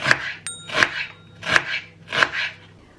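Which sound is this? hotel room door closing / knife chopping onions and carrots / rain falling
knife chopping onions and carrots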